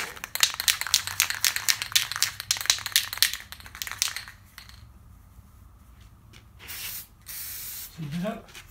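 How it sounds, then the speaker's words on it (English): Spray paint hisses in rapid pulsed bursts along the outside edge of a small stained glass mosaic, then stops. A few later rattles and hisses follow, close and fairly loud. "I can paint this outside edge one more time, so I get just a little bit heavier coat"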